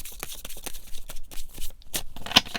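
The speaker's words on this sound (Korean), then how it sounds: "그럼 메시지 카드 뽑아보도록 하겠습니다." Tarot message cards are shuffled by hand in quick bursts of papery riffles and taps, close and crisp, with no talk.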